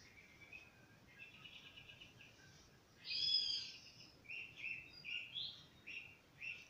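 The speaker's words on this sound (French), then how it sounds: "Les oiseaux dans les arbres chantent à cœur joie." Birds call and chirp from trees in short bursts over a quiet outdoor background, with several distinct calls clustering toward the end, fairly faint.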